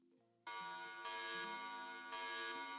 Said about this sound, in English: We get a alarm sound effect